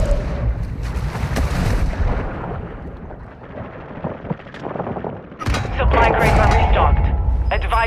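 Dense Call of Duty: Warzone 2 gunfire on the Vondel map, loud rapid bursts and cracking shots layered with rumbling blasts, easing briefly mid-clip before a renewed heavy volley.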